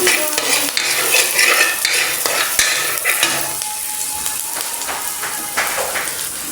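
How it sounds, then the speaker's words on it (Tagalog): Food sizzles steadily in a frying pan during sautéing, with a utensil stirring and scraping against the pan at close range, and no talk over it. "Mag-igisa na nga ako."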